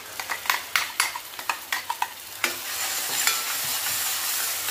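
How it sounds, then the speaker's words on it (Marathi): Tomato paste frying in oil with onion gravy in a pan, a spoon scraping and stirring in quick repeated strokes, then a steady close sizzle once the stirring stops. "आता हे पण छान कांद्याच्या ग्रेव्ही सोबत मस्त तेल सुटेपर्यंत ग्रेव्ही भाजून घ्यायची"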